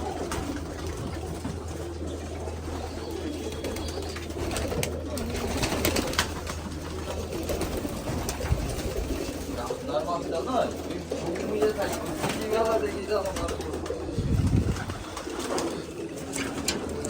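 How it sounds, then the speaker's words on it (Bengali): Domestic pigeons coo softly and steadily in a loft, with other birds and background noise around them and voices talking now and then. "এসব পায়রা আমাদের।"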